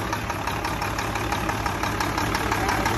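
A Wichai 310 motorbike engine idles smoothly and evenly, a close, steady, unbroken mechanical hum with a fine regular pulse and no pauses or revving.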